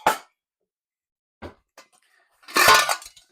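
A large cooking pot is handled for making gravy: several close metallic clanks and knocks separated by silence, ending in a louder, longer rattling clatter.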